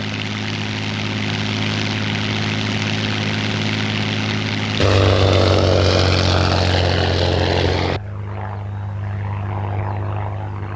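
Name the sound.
Hawker Hind biplane propeller engine in flight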